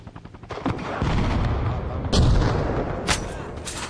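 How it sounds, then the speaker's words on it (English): Gunfire in the video game Arma Reforger: dense, rapid bursts of shots with sharp cracks near 2.2 and 3.1 seconds over a continuous rumbling battle bed, loud and close with no voices. "I'm getting shot from somewhere"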